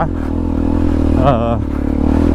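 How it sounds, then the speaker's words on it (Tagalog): A motorcycle engine labors steadily in second gear while climbing a rough mountain road, a close, constant rumble with a brief rattling clatter over it near the middle. "Kaya ng motor natin ng segunda."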